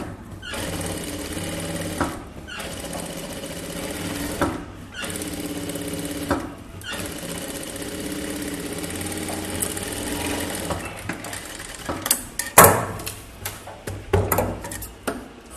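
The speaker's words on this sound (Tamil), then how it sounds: "இப்போ நம்ம அந்த தையல் போட்டிருக்கோம் இல்லையா, அது மேலே இன்னொரு தையல் போட்டுக்கோங்க" A sewing machine runs a second seam over chudithar fabric in several long, steady bursts of rapid stitching with short pauses, followed by some clattery fabric handling near the end.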